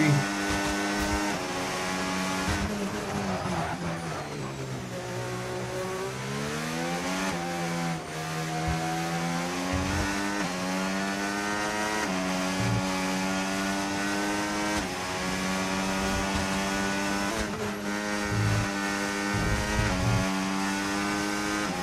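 Formula 1 car on a flying lap with DRS open, hard compound tyres: a loud high-pitched engine whine rises and falls steadily through gear changes, sustained and close throughout.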